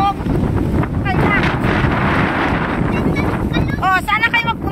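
Loud gusting wind roars and buffets the microphone on a hilltop at Malabog Hills, with excited voices talking and shouting over it.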